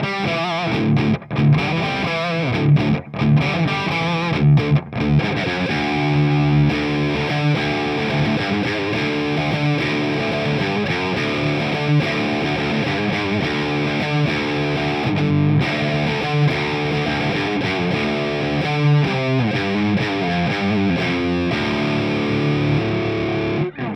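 Heavily distorted electric guitar through an Orange OR100 valve amp head, gain just above halfway, played continuously, thick and saturated chords and riffs at a steady moderate level, with no voices.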